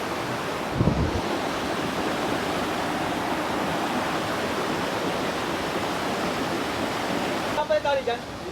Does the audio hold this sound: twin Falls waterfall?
yes